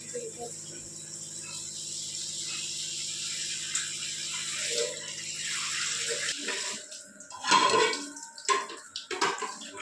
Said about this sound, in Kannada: ಇದನ್ನು ಇವಾಗ ಚೆನ್ನಾಗಿ ತೊಳ್ಕೊಬೇಕು